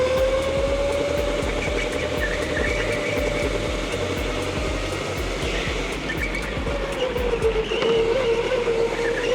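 A rental go-kart engine races around an indoor track, giving a steady, loud, close engine drone with a whining pitch that holds and shifts slightly as the kart corners, running continuously throughout.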